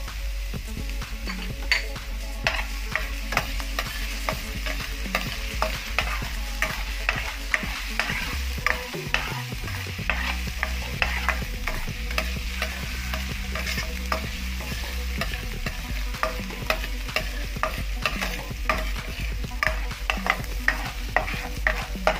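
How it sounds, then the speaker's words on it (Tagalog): Garlic frying in hot oil for an adobong pusit, a loud, steady sizzle that runs throughout, broken by frequent sharp scrapes and clinks of a spoon stirring against the pan. "Painitin lang po natin itong mantika. Ngayon mga kasandok, lagay na natin itong bawang."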